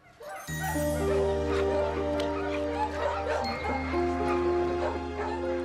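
A dog at an animal shelter in Maribor, heard under a steady musical bed with dense layered barks, yips and whimpers close by, with a chuckle-like sound mixed in.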